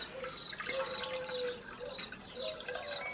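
Freshly washed fleece wool drains in a colander, giving faint, irregular drips and trickles of water falling close by in a quiet room.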